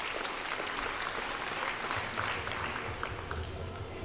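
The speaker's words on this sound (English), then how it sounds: "big round of applause for all of our sponsors" An audience at a Queensland state lead climbing finals at an indoor gym applauds the sponsors, a dense wash of clapping with a low hum underneath, fairly even in level throughout.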